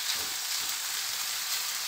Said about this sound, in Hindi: इसको चिकन के साथ कुक करना है ताकि ये सॉफ्ट हो जाए